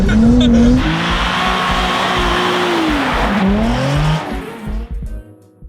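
Rally car drifting on ice with World Rallycross-type tires, engine wailing and revving up and down with tire skid noise across the whole stretch, loud and close, fading near the end; a voice faintly in the background.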